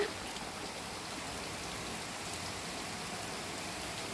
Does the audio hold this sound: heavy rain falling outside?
yes